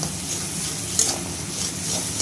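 Mashed yardlong bean paste with salt and a pinch of sugar is stirred continuously in a pan on the gas stove, a soft steady sizzle with faint scraping strokes, close and quiet.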